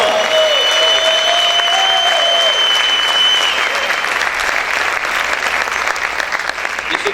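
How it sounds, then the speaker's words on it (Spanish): A church congregation applauds loudly, a dense sustained wave of clapping with some cheering voices and a sustained high tone mixed in, steady throughout and fading slightly near the end. "Yo quiero que usted gritara y aplaudiera fuerte al Señor."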